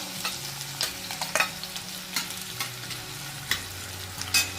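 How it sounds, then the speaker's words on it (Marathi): Green chili pieces frying and being stirred in a pan for okra bhaji, with steady close sizzling broken by repeated short scraping clinks of a spoon. "तर आपल्याला याच्यामध्ये अगोदर हिरवी मिरचीचे तुकडे टाकायचे"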